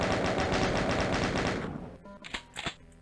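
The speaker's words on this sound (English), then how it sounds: "Use the chain gun to take the enemies down." A chaingun in the game Doom fires a rapid, sustained burst of shots that stops after about a second and a half, followed by a few scattered game sounds.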